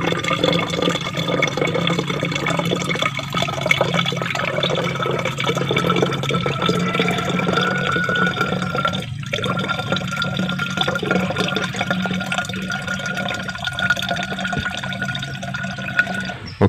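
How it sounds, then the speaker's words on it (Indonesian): A homemade plant pesticide made from shallot and garlic skin extract is poured into a mini sprayer, producing a continuous close trickling and gurgling of liquid that lasts around sixteen seconds. "Jadi langsung saja kita masukkan cairan ini ke dalam alat sprayer mini teman-teman."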